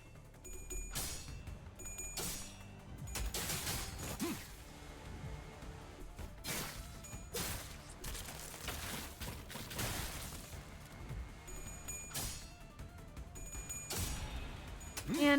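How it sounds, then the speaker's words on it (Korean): Rapid bursts of gunfire crackle like firecrackers amid a busy, dense mix of game effects and impacts in Limbus Company, fairly loud throughout. "폭죽 소리가 들리는 것 같군."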